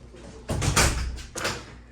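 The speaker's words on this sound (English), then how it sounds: "You can shut the door, Willie, because there's people right there." A hotel room door at a resort swings shut with a couple of soft thuds and a short rattle, heard close, and voices can be heard at low level.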